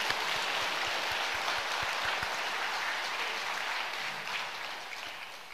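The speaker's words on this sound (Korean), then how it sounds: "하나님께 영광의 박수 올립니다." Church congregation applause, a broad even wash of clapping from a large room that stays steady and gradually fades toward the end.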